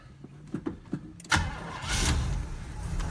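An old car nicknamed Green Bean cold starts: a few slow cranking pulses, then the engine catches with a sharp burst and settles into a steady, loud idle close by.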